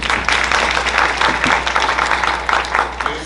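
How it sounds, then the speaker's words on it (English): Applause fills a room at a healthcare alliance breakfast event, a dense, loud wash of clapping hands from a seated audience that holds steady for about three seconds. "Let's give him a round of applause."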